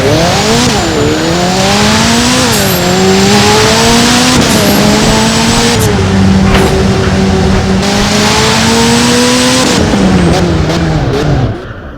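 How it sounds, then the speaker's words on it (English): A car engine in the Driving Empire video game, loud and continuous, revving and shifting through gears, with pitch rising and dropping and brief tire squeals, then easing off at the end. "we'll do the sound test here"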